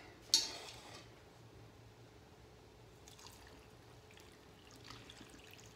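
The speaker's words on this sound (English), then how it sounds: "We are now ready to pour our mixture that is just above room temperature." Pickling brine that is just above room temperature is poured over vegetables for refrigerator pickles, opening with a short splash and then a faint, quiet trickle and drip.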